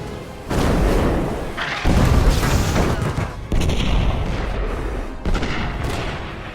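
Naval artillery shells fired at the battleship Bismarck by British warships, a dense, loud roar of heavy gunfire and booming detonations in overlapping waves, with no voices.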